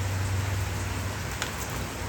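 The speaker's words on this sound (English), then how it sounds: "you can hear it is raining cats and dogs here" Heavy, steady rain hisses down outdoors as a dense wash of noise, with a low engine-like hum underneath and no talk.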